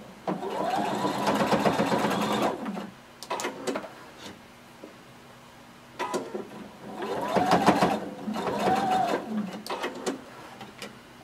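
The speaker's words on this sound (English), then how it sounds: "we're going to stitch across the bottom of our seam allowances where we created our casings" A sewing machine stitches across the bottoms of seam allowances at jumpsuit casings, running in two long bursts with short stops and fabric handling between them.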